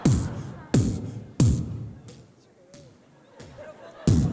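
Crowd of conference audience members beatboxing a bass drum with voiced B sounds, a group voice imitating the kick: six loud, sharp percussive hits in a loose steady rhythm, with a quieter murmur of the room between.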